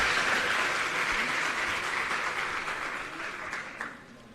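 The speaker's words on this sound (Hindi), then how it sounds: "एक बार जोरदार तालियों से आइए हम अभिनंदन और स्वागत करें" A school inauguration audience in Bawana breaks into loud, dense applause to welcome the next speaker, the clapping strong at first and then gradually thinning and fading.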